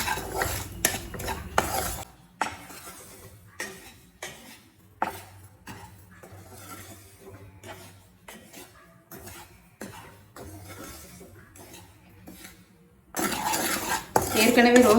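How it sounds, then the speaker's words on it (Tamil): A spoon scrapes and clinks against a pan as semolina (rava) is stirred and slowly roasted, in uneven bursts of metallic scraping with a faint sizzle underneath and short quiet gaps between them. "ரவை ஸ்லோலே வச்சு நல்லா வாசனை வர வரைக்கும் வறுத்துக்கோங்க"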